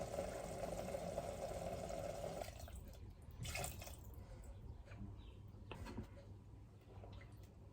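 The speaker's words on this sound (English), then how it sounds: "So we're now going to add in 2 cups of apple cider vinegar." Two cups of apple cider vinegar are poured into cooked, mashed apples in a pot: a steady, close pour that fades into softer splashing and dripping.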